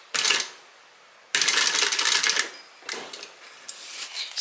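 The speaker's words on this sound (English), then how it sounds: "and then just do a tiny little back stitch" Home sewing machine running a short backstitch, giving a few brief bursts of rapid mechanical clatter separated by pauses, close and fairly quiet.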